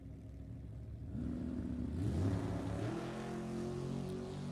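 A drag car with a 440 cubic inch Chrysler engine revs up at a race club event, a low engine drone swelling into a louder rising roar, then holding at a steady pitch, heard from some distance.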